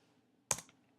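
A single sharp keystroke on a computer keyboard while typing a cell reference into a spreadsheet, one close click in a quiet room.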